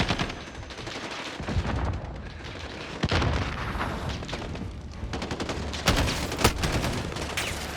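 In a Modern Warfare campaign battle, sharp sniper cracks ring out amid a constant wash of distant automatic fire, with several loud isolated shots standing out over the din.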